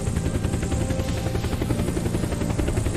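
Helicopter in the video game Unturned, a steady, loud rotor drone with dense low thumping that fills the whole stretch without any talk over it.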